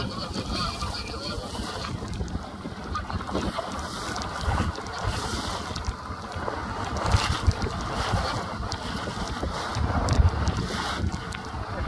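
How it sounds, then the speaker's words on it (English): Rough sea and strong wind heard from aboard a sailing boat in bad weather: a steady, loud roar of wind buffeting and water rushing past the hull, continuous throughout with no voices. "Just to give you a little idea of what's going on, here's the sea."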